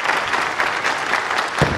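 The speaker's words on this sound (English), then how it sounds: "sympathetic applause for Bill O'Neill" Spectators at a ten-pin bowling match give sympathetic applause to bowler Bill O'Neill after he leaves a 7-10 split, a loud, steady burst of crowd clapping with a brief thump near the end.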